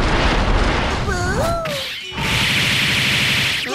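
Explosion effects from the fighting game King of Fighters 98 UMOL, with a swooping whistle, a deep boom and a crash, followed by a loud, dense rush of game noise.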